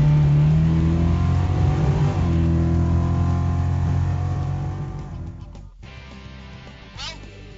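A 1972 Camaro V8 drag car with the choke removed runs at a drag strip at night, its engine roaring loud and close before fading away into the distance.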